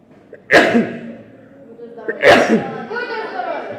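Two loud sneezes from someone in a primary-school computer lesson, about two seconds apart, each a sharp burst with a short tail, close to the listener.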